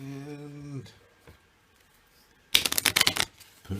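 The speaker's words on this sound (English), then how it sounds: "I'm now going to shuffle in the battle cards with the remaining army cards. So I have a little shuffle" Playing cards, a deck of army and battle cards, are riffled together in one quick rattling burst lasting under a second, close and crisp after a short quiet pause and a brief hum.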